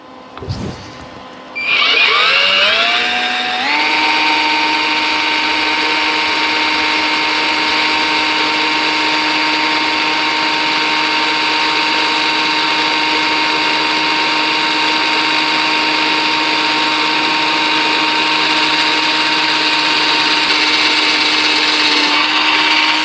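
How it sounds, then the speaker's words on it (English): An early-1900s drill press whines up to speed and then runs steadily at a high, constant pitch drilling thick cast iron for a long stretch, loud and close with no talking. "with a small drilled hole, it's easier for the actual drill to follow"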